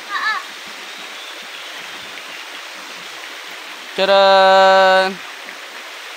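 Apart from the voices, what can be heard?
river water flowing on a farm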